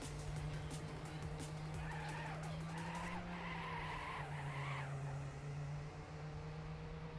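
Car tires skid through a low-speed speed slide on the Canyon track of a racing video game, a steady engine drone running underneath with a rising squeal that comes and goes midway.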